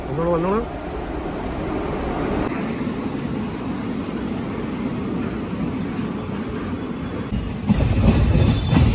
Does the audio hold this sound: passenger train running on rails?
yes